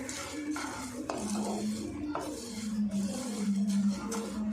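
Dal dry-roasted in a pan over a low flame, stirred steadily, giving repeated scraping strokes against the metal with a low hum underneath, close and moderately loud.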